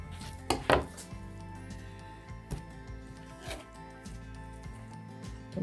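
A knife cuts deer meat into small pieces, producing a few soft, close chopping thuds on a board with quiet gaps between them.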